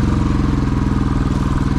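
A motorcycle engine runs steadily at close range, a loud continuous throb with a fast, even firing rhythm and some clatter, heard on the ride from Lachen toward Gurudongmar in Sikkim.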